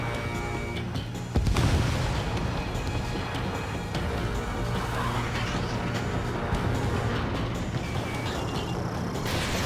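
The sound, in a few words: missile launch and explosion in Ace Combat 7 video game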